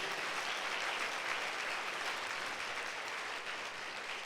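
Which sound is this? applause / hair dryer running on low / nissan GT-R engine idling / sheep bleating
applause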